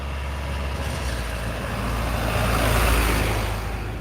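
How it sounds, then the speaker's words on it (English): A truck drives past on a road, a loud broadband rumble that swells toward a peak near the end and stays heavy throughout, with no voices. "let this truck go by."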